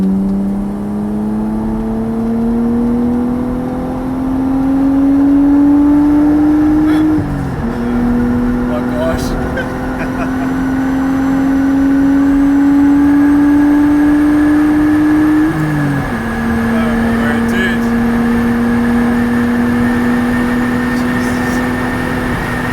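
An RB25-swapped Nissan 200SX pulls hard on a freeway, its engine droning loudly and climbing in pitch through the gears, with two brief dips at the gear changes. Heard from inside the car, with people talking over it.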